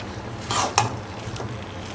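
A metal lid settles onto a cooking pan holding a pumpkin and field bean stir-fry, with a brief scrape followed by a single sharp clank over a low background hiss.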